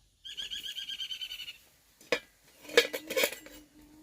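A metal lid clatters onto a pot holding eggs and potatoes set to boil, giving a few sharp clanks and rattles after a stretch of faint tonal sound, with no talk.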